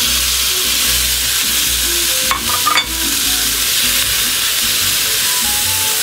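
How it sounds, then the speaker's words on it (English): Green onion and tomatoes hitting a hot pan for tomato and egg stir-fry, giving a loud, steady sizzle with a brief burst of spattering partway through, close up with no talk. "Now we're going to put some of our green onion in there. We'll put our tomatoes in."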